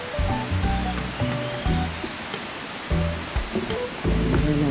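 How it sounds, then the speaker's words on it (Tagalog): Twin Falls, a waterfall in Kidapawan City, roars as a continuous broad wash of rushing water, with intermittent low thumps and handling noise close to the recorder and no speech. "Ayan ang Twin Falls."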